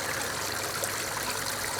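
A waterfall at a wildlife pond pours in a steady, dense rush of splashing water, loud and close, with no voices and no pause.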